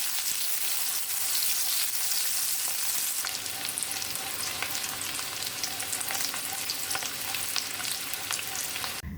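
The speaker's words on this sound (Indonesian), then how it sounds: "masukkan irisan bawang merah, dan ditumis kembali sampai bawang merahnya juga layu." Sliced shallots and garlic sautéing in a pan for a beef tamarind soup give a dense, even sizzle that crackles on for several seconds, with faint stirring ticks and no talking.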